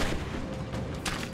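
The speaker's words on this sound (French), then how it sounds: "c'est une grenade ça, non?" Grenade going off in Rise of the Tomb Raider: a dense, rumbling blast wash sustained through the moment, with a brighter burst of debris near the end, no voices.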